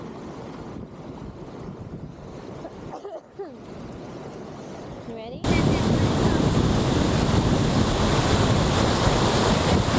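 Rushing creek water at Tanque Verde Falls on a hike, a steady broadband wash that jumps much louder midway as the crossing begins, with wind buffeting the microphone and a brief spoken question early on.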